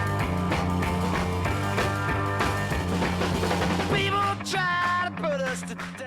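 A studio recording of a full rock band playing with a driving rhythmic beat, bass and guitars, ending in sliding, bending guitar notes.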